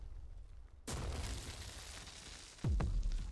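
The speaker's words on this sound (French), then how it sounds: "Explosion." An explosion in the Super Crush KO video game cutscene bursts in suddenly and loud, leaving a sustained rumbling roar, then a second heavy boom hits near the end.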